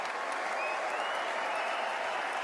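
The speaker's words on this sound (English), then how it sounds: "Crowd rises for Martin Guptill" A cricket crowd at an Australia versus New Zealand one-day international applauds Martin Guptill's half century, a broad steady wash of clapping and cheering from a large stadium audience, continuous and fairly distant.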